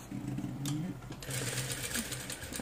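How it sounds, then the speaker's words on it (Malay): A sewing machine stitches elastic into the waistband of kids' pants, running in steady continuous bursts close by with a brief pause partway through. "Okey, kita jahit ke bawah."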